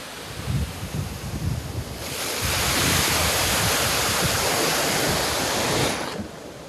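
A stream running beside a village farm field, a steady broad rush of flowing water that grows louder and fuller midway, with some wind buffeting the microphone.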